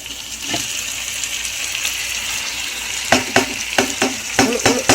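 Chopped tomatoes fry in a pot for chicken biryani with a soft continuous sizzle, then a spoon stirs and scrapes against the pan in a series of sharp, close clacks.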